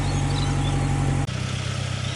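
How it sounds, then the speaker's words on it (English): A car engine idles close by during a restoration project, holding a steady, even rumble throughout with a brief break partway. "Idling nicely."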